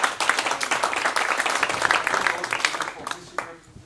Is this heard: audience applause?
yes